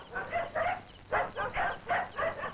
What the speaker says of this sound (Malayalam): നായ്ക്കള് കുറിക്കുന്നു.